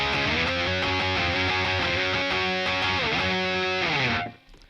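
Electric guitar played through a Boss Katana amp with a Governor DS distortion pedal and the gain raised, giving a loud, sustained, chugging distorted riff that rings out for about four seconds before being cut off abruptly.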